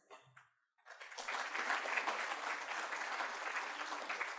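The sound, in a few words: audience applause welcoming a speaker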